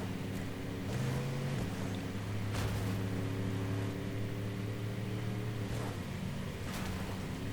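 Engine of a car in a video game chasing an SUV, a steady droning hum with shifting revving tones throughout and a few brief bumps, with no talking.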